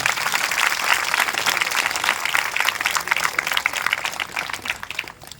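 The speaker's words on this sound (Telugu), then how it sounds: "మీరందరూ సంతోషంగా ఉన్నారు అంటే గట్టిగా ఒకసారి చప్పట్లు కొట్టండి" A church congregation claps together, a dense crackle of many hands that carries on for several seconds before thinning out at the end.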